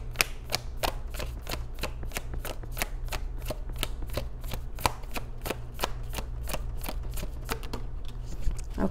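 Tarot cards are shuffled close up in a fast, even run of crisp riffling snaps that carries on steadily throughout with no voices.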